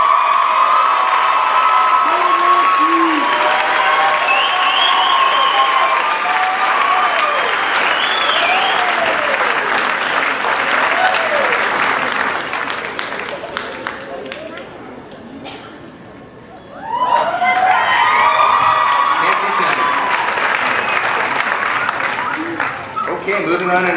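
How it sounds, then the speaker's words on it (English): Graduation audience applauding and cheering at a high school ceremony, a dense, loud wash of clapping with whoops and shouts that dips briefly to near quiet and then surges back at full strength. "Please join me in a round of applause and welcome to the stage our very own Nancy"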